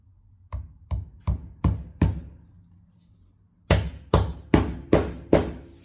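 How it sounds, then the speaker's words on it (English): Hammer blows driving a small clasp onto scrap metal in a workshop: five sharp metallic strikes, a brief pause, then five more in steady rhythm, close and loud. "And hammer that in."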